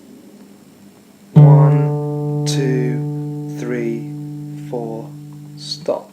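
A single guitar chord rings out and sustains steadily for several seconds while a voice counts aloud over it.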